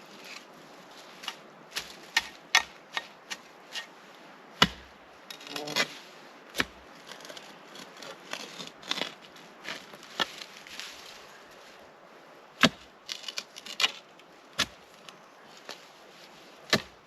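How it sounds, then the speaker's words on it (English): Roots being cut off, heard as a scattered series of sharp snapping chops spread unevenly over a quiet outdoor background, with no speech. "Cut off the roots."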